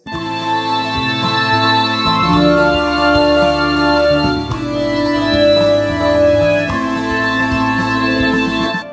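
Casio CT-S300 portable electronic keyboard playing a full arrangement, with sustained chords, a bass line and melody over an accompaniment pattern, steady and loud throughout with no talking.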